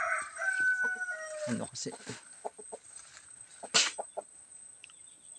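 Native chickens cluck nearby while a rooster crows, with one crow ringing out loudly partway through, and someone speaks briefly over the barnyard sounds.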